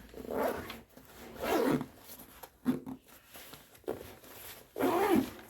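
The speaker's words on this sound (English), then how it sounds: "So I'll zip that pocket back up." A backpack pocket zipper pulled closed on a Vanquest Carbide 8 pack, with several rasping zip strokes up close, each stroke a short burst with brief pauses between.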